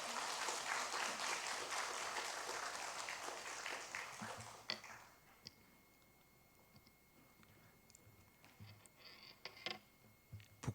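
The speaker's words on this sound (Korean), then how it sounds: "우리 큰 박수로 환영하겠습니다" A church congregation at a special evening service claps to welcome a guest pastor, a dense wash of applause that fades around the midpoint into a few scattered claps and quiet room noise.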